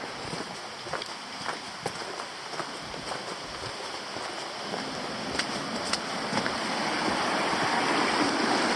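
Flowing creek near Svengali Falls in Tasmania, a steady broadband rush of water close by with small splashes, swelling slightly louder toward the end, no voices.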